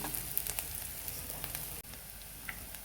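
Onion sautéing in oil with turmeric for a traditional kurdai bhaji makes a soft, even sizzle and crackle. It stays fairly quiet and steady, with a brief dip near the end.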